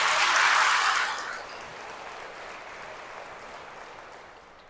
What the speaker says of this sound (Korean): 동의하시면 박수 한번 보내주세요